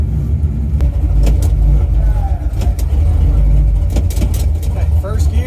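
A car engine rumbles loudly and steadily at a race track, with low drone throughout and slight rises in pitch, heard from inside the car while a driver talks.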